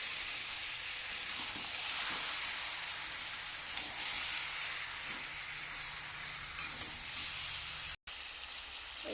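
Potatoes and meat frying in a pan, a continuous dense sizzle with faint crackles, steady and close throughout with a brief dropout near the end.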